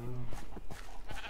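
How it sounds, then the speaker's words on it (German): A sheep in the video game Minecraft gives a short series of quavering bleats, faint and close, with a brief tonal note at the start. "hier hinten ist ein Schaf"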